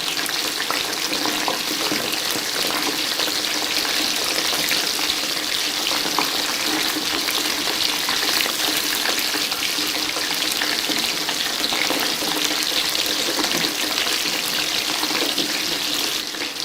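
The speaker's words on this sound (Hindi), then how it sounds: "अब हम इसे दूसरी साइड से पकाते हैं।" Chicken pakora fritters frying in hot oil, a steady, dense crackling sizzle that holds close and even throughout with no voices.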